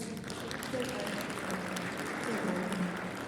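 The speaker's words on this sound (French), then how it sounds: "et ça, il faut l'applaudir. Bravo." Applause from a conference audience at an insurance-sector event, a continuous moderate patter of many hands with voices audible underneath.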